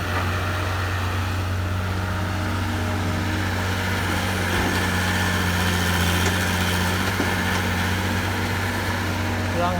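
An old Komatsu 12 HD fitted with a turbocharged Hino six-cylinder diesel runs at a steady idle, a constant low rumbling drone up close, while people talk over it.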